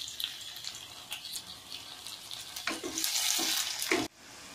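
Tomatoes and green chilies fry in a pan of oil for a Maggi noodle dish, a steady close sizzle that swells louder near the end before cutting off abruptly.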